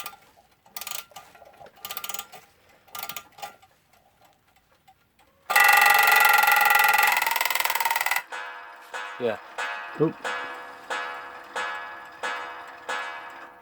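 A wound-up Seth Thomas alarm clock ticks in a steady, moderately loud rhythm close by. Before it, brief speech and a long, loud, noisy burst.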